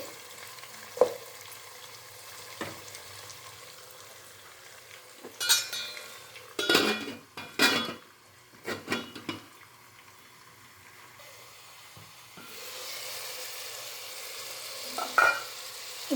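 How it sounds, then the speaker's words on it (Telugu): Biryani mixed with a spoon in a cooking pot, a few scraping and clanking stirs in the middle of a quiet stretch, then a soft steady simmer toward the end, close by with no voices. "ఒకసారి కలిపేసుకొని మనము మూత పెట్టేసుకొని కొంచెం సేపు ఉడికించుకుందామండి"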